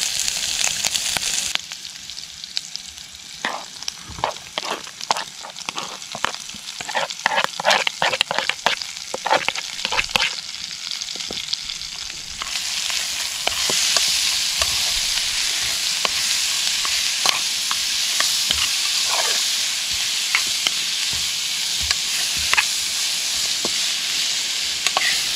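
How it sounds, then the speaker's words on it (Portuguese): Onion and garlic fry in a pan for arroz mateiro, a loud constant sizzle with bursts of crackling and the scrape and clatter of stirring, close up, the hiss growing fuller and brighter midway. "agora deixa dar uma fritada"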